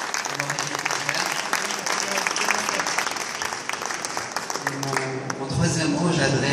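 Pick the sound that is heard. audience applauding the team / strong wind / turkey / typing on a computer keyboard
audience applauding the team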